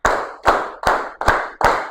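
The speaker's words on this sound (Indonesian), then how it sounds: "Oke, tepuk tangan semuanya" Five loud, evenly spaced bursts of group clapping from a school class in a maths lesson, counted claps with short pauses between each, no talk over them.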